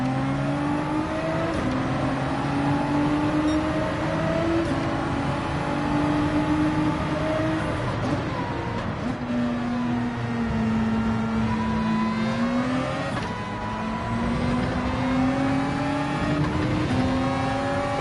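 Gr3 race car engines roaring around Interlagos in a racing video game, with loud, continuous revving, pitch climbing and dropping through gear shifts, and other cars whirring nearby.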